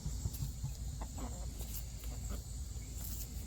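Backyard chickens cluck faintly at a distance in a low, irregular series of short calls over quiet outdoor ambience, with no one speaking.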